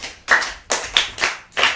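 Children clap for a child in five quick, loud bursts of close group clapping in a steady rhythm, with no talk.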